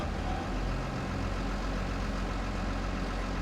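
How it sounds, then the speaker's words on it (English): A New Holland wheel loader engine in Farming Simulator 22 runs with a smooth, fairly quiet low rumble, holding steady throughout with no voices. "It's got a fairly quiet but smooth startup sound to the engine."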